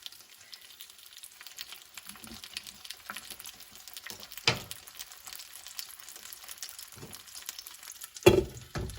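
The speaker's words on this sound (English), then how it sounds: "then I'm going to fry it in the frying pan." Quiet, steady sizzle of a quesadilla frying in a pan, with a few sharp clatters of a utensil scraping or tapping the pan.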